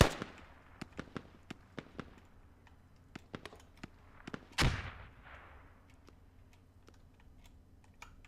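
Explosions and sharp cracks go off in a video game match, many scattered pops with one heavier rocket blast near the middle, fairly faint against a low background.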